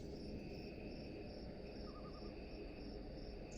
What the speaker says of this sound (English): there's a bunch of like cicadas flying around, and they're like hissing and whatever